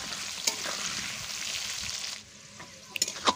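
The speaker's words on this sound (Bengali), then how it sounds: "দেখুন লবণ হলুদ দিয়ে আলুটাকে ভালো করে আমি 5-6 মিনিট ধরে ভেজে নেব।" Potato pieces sizzling and frying in hot oil with salt and turmeric in a village-style kitchen, a steady loud crackle with a few sharp stirring clicks, easing off near the end.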